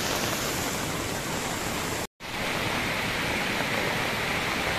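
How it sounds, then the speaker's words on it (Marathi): A rain-swollen stream brimming to its banks rushes in a loud, steady roar of churning water heard close by, broken only by a momentary cut. "संपूर्ण वरून जो नाला आहे अगदी तुडुंब भरून वाहतोय बघा"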